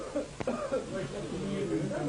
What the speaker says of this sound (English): Only rasping coughs break the peaceful silence.